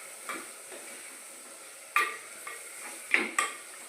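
Chicken for a clay-pot biryani, half a kilo, is stirred in a pot, with a few scraping clatters of a spoon against the vessel spaced over a quiet, steady background.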